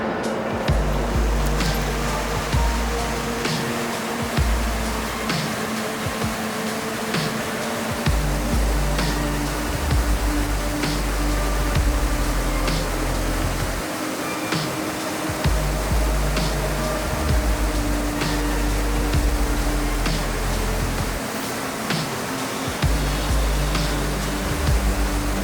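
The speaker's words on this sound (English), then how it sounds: "It's always weird showing up to these waterfalls in person versus pictures." Steady broad rush of the Fairy Falls waterfall, continuous and fairly loud throughout, with low rumbling pulses and a few faint ticks over the constant roar.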